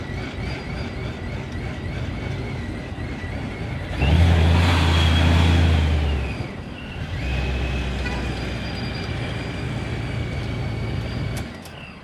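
Supercharged engine idling with a rough, lumpy note, then revved hard for about two seconds before settling back to a steady idle; loud and close, no talking.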